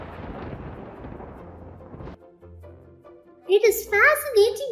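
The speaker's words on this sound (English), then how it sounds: "The strong wind that comes with thunder and rain is called a thunderstorm." A thunderstorm rumbles with a heavy, sustained roll of thunder and wind-like noise, then breaks off into quieter background as voices speak over it.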